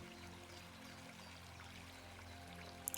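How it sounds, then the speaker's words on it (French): A small stream runs under a footbridge, its water trickling and pouring in a soft, steady flow at moderate distance, with a faint brief splash near the end. "En dessous, vous entendez le ruisseau et le bruitage de l'eau qui vous apaise."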